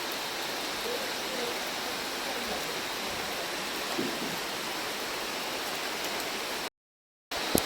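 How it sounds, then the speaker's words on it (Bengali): Steady, dense hiss of rain pouring down continuously, close and even, with a brief dropout near the end. "এখানে বৃষ্টি শুরু হয়ে গেছে"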